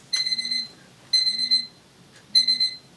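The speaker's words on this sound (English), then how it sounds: "forgot to turn the timer off" A kitchen-style timer alarm goes off in three quick bursts of shrill electronic beeping, each about half a second long and separated by short pauses, loud and close with no talking.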